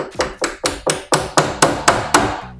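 A hammer taps a door hinge pin about nine times in a steady, even rhythm, each strike sharp and close with a short ringing decay, and no one talks over it.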